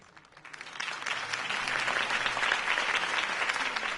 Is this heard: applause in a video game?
yes